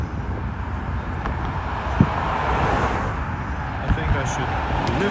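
Steady roadway noise from cars on a windy, cold city street near Nevsky, a broad continuous rumble with a couple of brief thumps, heard without talk.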